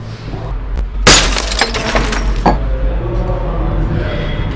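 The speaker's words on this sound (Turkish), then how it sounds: "Camı kırmışlar. Ben kırmadım." Glass shattering inside a closed prison building in Buca, İzmir: a sudden loud crash followed by a few scattered tinkling impacts, with a low constant hum and people talking in the background.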